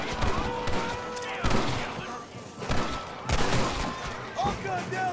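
Gunfire in the video game Red Dead Redemption comes in several bursts of repeated shots, loud and close, while a player's voice talks and shouts over the shooting.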